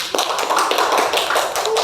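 Steady, dense applause from an audience welcoming a guest onto a counseling podcast, crisp hand claps running without pause from start to finish at an even, fairly loud level.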